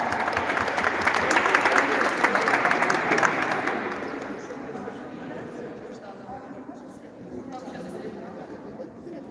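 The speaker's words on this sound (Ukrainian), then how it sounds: "Оплески переможцям!" A crowd applauds the winners at a women's student volleyball league awards ceremony, with strong clapping for about four seconds that fades to lighter scattered claps while an announcer keeps speaking.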